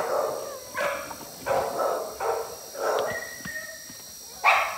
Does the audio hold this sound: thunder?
no